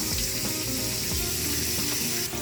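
Water running and splashing over frozen saigon being soaked in a kitchen, a steady broadband rush lasting the whole clip with a few faint knocks underneath, close and moderately loud.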